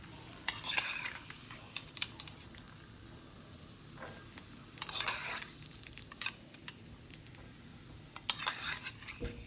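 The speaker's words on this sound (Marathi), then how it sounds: "काजू असे छान फ्राय झालेले आहेत, ब्राऊन कलर आलेला आहे" Cashews fry in a pan for suji ka halwa, a soft steady sizzle running throughout with intermittent scraping stirs and light clinks of a utensil against the metal, close and fairly quiet.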